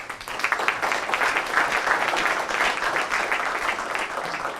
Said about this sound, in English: a round of applause for their efforts